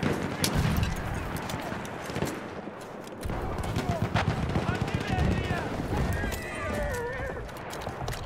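Gunfire in the video game Battlefield 1, with dense, continuous shots and rattling bursts filling the mix alongside game noise, while a voice talks over the action.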